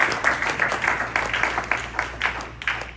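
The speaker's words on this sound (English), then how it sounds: "And yes, you may give us a big round of applause." Audience applause after a city official's speech at a public event, a steady wash of clapping from a seated crowd over a low room hum, without voices.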